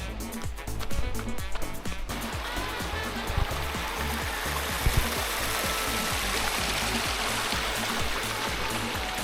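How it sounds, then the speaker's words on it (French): A small mountain torrent rushes steadily along a trail, its broad continuous watery hiss filling the background with no break. "Petit torrent."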